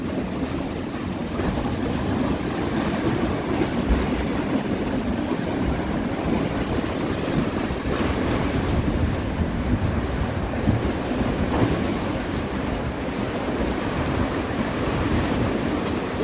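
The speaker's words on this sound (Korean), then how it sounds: "센 파도가 오고 있네요." Strong sea waves crash at a fishing spot on the coast, producing a continuous loud rushing surge mixed with gusty wind buffeting, steady throughout with no voices.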